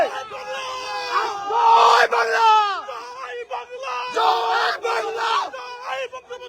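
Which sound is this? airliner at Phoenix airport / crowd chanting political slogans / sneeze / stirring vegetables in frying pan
crowd chanting political slogans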